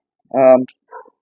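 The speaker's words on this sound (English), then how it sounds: "We got a dog in the neighbor's yard." A dog barks once in a neighbouring yard, a loud, close bark followed by a fainter yip, with no other sound around it.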